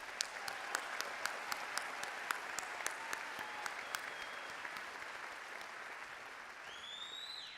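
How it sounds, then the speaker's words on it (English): Sustained applause from a large audience honoring graduates at a fall university commencement ceremony, steady dense clapping with a few sharper claps standing out, moderately distant and filling the hall throughout. "let's give them a round of applause"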